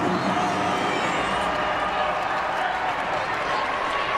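Loud, sustained roar of a packed arena crowd at a Penn State versus Minnesota college volleyball match, tied late in a set, with cheering and clapping that hold steady and dense throughout.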